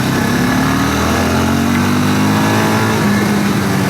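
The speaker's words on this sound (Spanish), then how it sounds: "Vamos a hacer el ejercicio aquí de sacarlo desde abajo, o sea, aproximadamente 3000 vueltas." A Voge single-cylinder trail motorcycle engine pulls up from about 3000 rpm with a loud, steady drone and a slowly rising pitch. The engine runs close and alone for the whole stretch.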